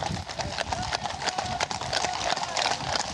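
Cavalry horses trotting in formation with the Queen's Cavalry, steady overlapping hoofbeats close and loud with a faint whinny, and a voice talking over the hooves.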